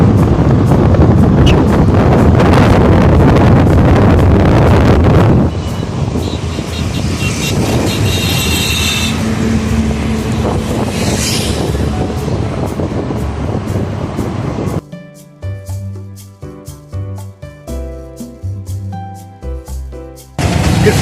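A motorbike ridden along the Krishnagiri to Bangalore national highway roars with heavy, constant wind buffeting on the microphone, then about three-quarters of the way through it cuts abruptly to a quieter, more tonal passage.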